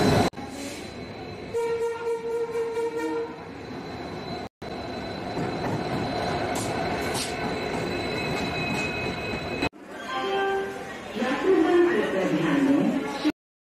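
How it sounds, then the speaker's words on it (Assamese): A passenger train pulls into Guwahati railway station, its horn sounding and wheels squealing and rumbling over a long stretch, with voices heard in the background. "ট্ৰেইন আহি গ'ল"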